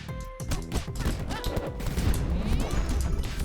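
Gunfire in the Super Crush KO video game: a busy run of rapid thumping shots and impact crashes mixed with game music, fairly steady and moderately loud.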